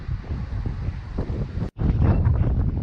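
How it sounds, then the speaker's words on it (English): Strong wind buffeting a drone's camera microphone, a loud continuous low roar and rumble that cuts out for a split second, then returns even stronger. "the wind is just crazy"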